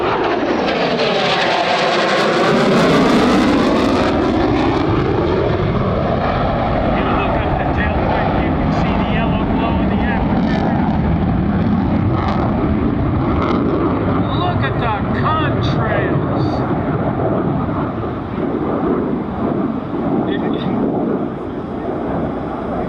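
An F-35B Lightning II jet roars through an airshow demonstration at Greater Binghamton, a loud, continuous engine howl that sweeps in pitch as it passes, with wind buffeting the microphone and an announcer talking over it.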